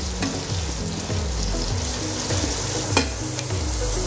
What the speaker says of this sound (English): I'll proceed to fry these onions until it's dark golden brown.